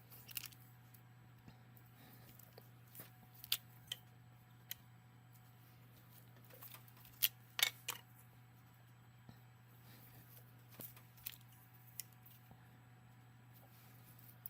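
Polymer clay mosaic tiles are cut out with small cutters, producing faint scattered clicks and light taps spread irregularly over a quiet background with a steady low hum.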